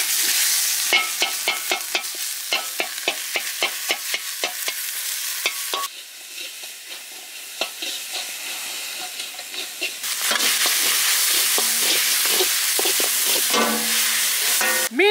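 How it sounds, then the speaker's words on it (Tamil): Pieces of guitarfish sizzling loudly in hot oil in a pan, a steady close frying hiss broken by repeated scraping stirs, with the sizzle dipping briefly midway before surging back. "மீன் போட்டு சூப்பராக நம்மளுக்கு ஃப்ரை ஆகி வந்துருச்சுங்க"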